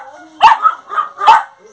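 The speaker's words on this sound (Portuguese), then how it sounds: "Cachorro aqui é valente." A dog on a small cocoa farm near Ilhéus, Bahia barks three or four times in quick succession, loud and close, with a short gap between bursts.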